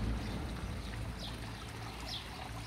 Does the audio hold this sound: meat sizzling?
no